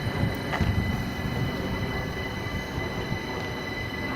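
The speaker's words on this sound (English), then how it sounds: "It's the 4:37 train then" A train rumbles past close by at Clapham Junction, London, a steady heavy roar of wheels on rails with faint squeals and clatter, no voices.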